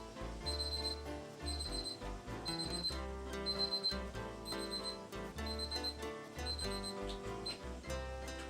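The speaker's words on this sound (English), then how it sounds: "So the probe is beeping already over here." A meat thermometer probe gives repeated high electronic beeps in short pulsed bursts, fairly steady in rhythm, under a dense, busy background of louder low tones while steak cooks.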